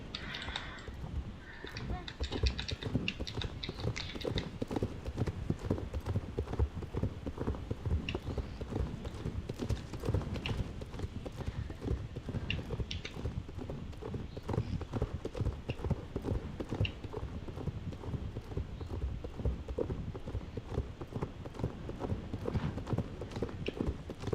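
Horse hooves clip-clop steadily in the Star Stable Online game, a continuous rhythmic trotting beat that stays even and moderately close for the whole stretch.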